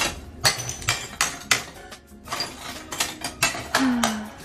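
A hammer strikes a thick ceramic W.O.T pot over and over, sharp clinking cracks in an irregular rhythm, close and loud, with a brief ringing tone near the end.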